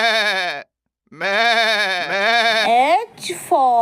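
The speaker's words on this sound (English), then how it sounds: "G for goat." A cartoon goat bleating in a children's phonics song: two loud, wavering, nasal bleats separated by a short gap, each long and pitched, with a brief noisy burst near the end.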